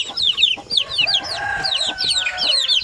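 Basilan and Zamboanga native chicks cheep in a loud, continuous chorus of high, rapid peeps, with the lower clucks of adult chickens mixed in, close by.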